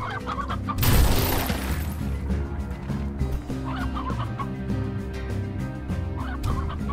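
Several chickens cluck repeatedly in the video game Slime Rancher over a steady background of music, with a brief louder burst of noise near the start.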